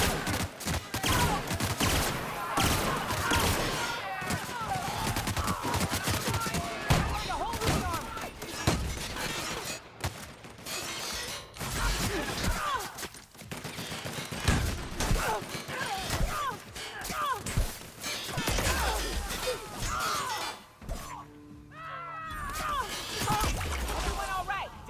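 Gunfire in The Outer Worlds at an outpost, with busy bursts of shots and sharp impacts running throughout, mixed with speech and combat noise at moderate loudness.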